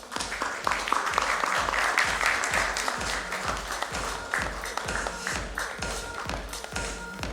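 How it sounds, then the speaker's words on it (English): A conference audience at a nursing conclave in a Mumbai hotel applauds steadily, close and continuous clapping with a regular tapping pulse underneath, no speech. "so for Brigadier Subhashini, let's have a huge round of applause, please."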